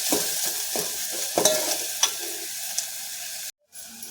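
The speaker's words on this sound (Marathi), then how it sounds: "कांदा व्यवस्थित आपल्याला लाल होईपर्यंत परतायचा आहे" Chopped onion sautéing in hot oil for a Marathi egg curry, a steady close sizzle broken by the scrape and clink of a stirring spoon against the pan, with one brief gap near the end.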